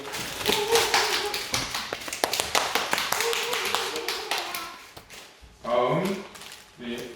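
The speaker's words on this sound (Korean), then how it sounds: "박수 주세요. 박수." A church congregation at a Sunday service in a New Zealand Korean church claps in scattered, loud rapid applause that thins out, followed by a brief voice at the end.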